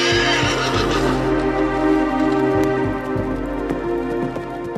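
Horses neighing loudly and close, with repeated hoof clip-clops beating a steady rhythm underneath as they move.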